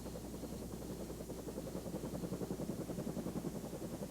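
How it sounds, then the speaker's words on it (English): A military helicopter's rotor thumps steadily overhead in remote Venezuelan jungle, a low pulsing chop that stays constant throughout with no voices. "A military helicopter flies over completely uncharted territory."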